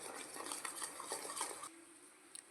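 A spoon stirs coffee powder and honey together in a small bowl for a face pack, a soft, quick scraping and clinking that stops partway, then two faint taps.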